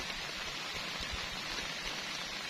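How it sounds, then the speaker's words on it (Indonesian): Steady rain at night at a solo campsite with a tent, heard as a constant close, even hiss with no voices. "aku makan ditemenin syahdunya air hujan di malam hari"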